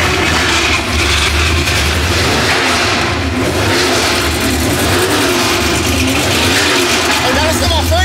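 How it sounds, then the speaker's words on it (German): A Porsche engine revs hard under full throttle, a loud, dense roar that holds steady and close for the whole stretch with no pauses. "Ich gebe Gas."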